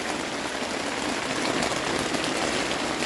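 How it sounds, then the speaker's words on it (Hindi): Rain falls at night on and around a tent at an Algonquin campsite, a close, even patter and hiss with no break and no voices. "बाहर बारिश हो रही है और हम अपने टेंट में बैठे हुए हैं"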